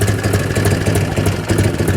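A 1978 Harley-Davidson FLH 75th anniversary edition motorcycle idles close by, its engine giving a loud, steady, lumpy low thump that keeps an even rhythm.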